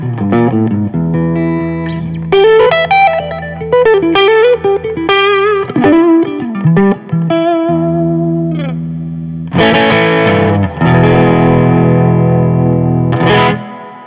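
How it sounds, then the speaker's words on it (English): An electric guitar runs through a J-Rocket Archer overdrive pedal into a Fender Princeton amp with light reverb, playing a loud, gritty melodic phrase with sustained notes and bursts of strummed chords. "sending that through the J-Rocket Archer pedal just to give it a little bit of dirt, a little bit of overdrive."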